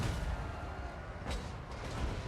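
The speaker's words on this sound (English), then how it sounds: "Cannons, yeah, shoot the wall here." Cannons fire at a wall in the Total War: Warhammer 2 battle game, heard as faint, distant booms within a dense rumbling battle din, with one sharper report standing out.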